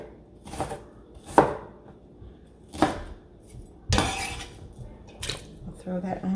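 Sharp knife chops onion pieces on a cutting board in a home kitchen, a handful of distinct, loud, irregular thwacks spaced across the moment, with soft kitchen clatter between strikes and no talking.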